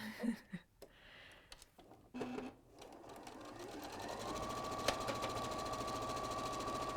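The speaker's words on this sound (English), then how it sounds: "you're going to stitch straight seams, 1/4 inch again on your straight seams" Sewing machine running steadily while stitching straight quarter-inch seams, a continuous mechanical whir that starts after a few short bursts and holds loud and even to the end, with no talking.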